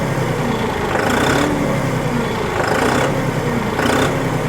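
A John Deere 5210 Gear Pro 4WD 50 hp tractor's turbo diesel engine runs close by, its note swelling in three short rev bursts over a continuous rumbling idle.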